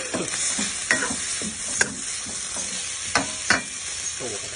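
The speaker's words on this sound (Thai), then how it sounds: "คั่วให้พริกแกงมันเข้ากับเนื้อกุ้ง" Shrimp stir-fry with curry paste in a pan: a steady sizzle broken by several sharp scrapes and clacks of the spatula against the pan, close and fairly quiet, with no voices.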